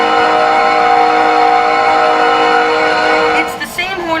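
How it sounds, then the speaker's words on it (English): Norfolk Southern freight train horn in the video game Rails Unlimited, a loud sustained multi-tone blast that holds steady, then breaks off near the end into a brief burst of other sounds. "These train horns sound like those CP freight trains from Canada."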